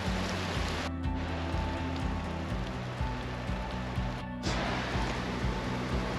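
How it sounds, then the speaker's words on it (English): Hail patters steadily on a mountain trail, a dense close rattle of small impacts with a rhythmic low thumping beneath and two brief dropouts, no voices heard. "Yes, it's hailing."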